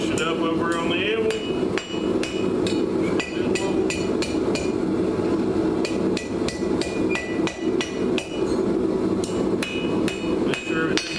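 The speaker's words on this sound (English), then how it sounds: "You hit the finial and bring your other side down. Finish it up over on the anvil." Repeated sharp hammer blows ring on hot steel as an S-hook is shaped on an anvil, a steady run of loud close metallic strikes with short ringing tails.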